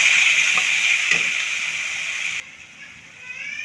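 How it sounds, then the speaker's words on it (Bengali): Egg masala with cumin paste sizzles and fries in a pan, a steady bright hiss with a couple of stirring knocks, then the sizzle drops away and quietly returns near the end. "আমরা এটা কিছুক্ষণ ভেজে নিব"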